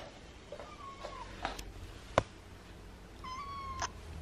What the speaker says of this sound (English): What was that meow, Zeus?